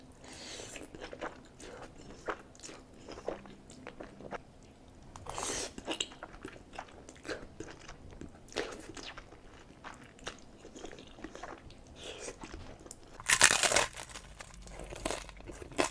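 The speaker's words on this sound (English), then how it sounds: "That crunch is nice." Close crunchy bites and chewing of fried chicken, with crinkling and tearing sounds in bursts, and one louder crunch near the end; no talking.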